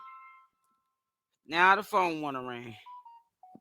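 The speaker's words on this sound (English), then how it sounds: "Every time I go live, now the phone wanna ring." A phone rings during a live stream with short electronic beeps and dial-tone-like pips at the start and end. A louder, voice-like melodic burst comes in the middle.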